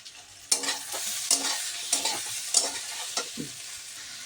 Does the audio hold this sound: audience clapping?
no